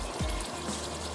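A little water is poured into spiced masala cooking in a pan, a brief soft splash and trickle over a faint background hiss.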